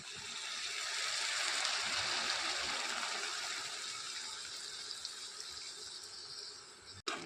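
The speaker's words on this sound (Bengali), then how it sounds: "জল দিয়ে দেবো।" Water poured from a vessel into a dried fish mixture for fritters, a steady close hissing splash that swells and then tapers over several seconds before ending with a brief clatter.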